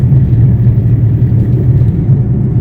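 A car engine rumbles steadily on a road at night, a loud low continuous drone with no clear rise or fade and no voices.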